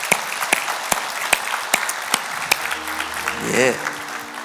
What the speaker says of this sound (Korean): 우리 청년부원들 시온 찬양대를 위해 박수 한번.